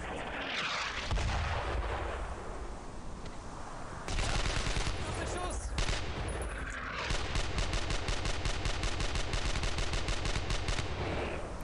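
Gunfire in the World War II shooter Brothers in Arms: Earned in Blood, with dense, continuous bursts of rifle and machine-gun fire and booming reports over battle noise that runs the whole way through.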